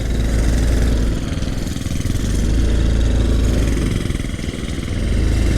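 A Honda Trail 125 motorcycle engine runs loud and near with a steady, throbbing low-pitched drone that dips slightly and then recovers, and no one talks over it.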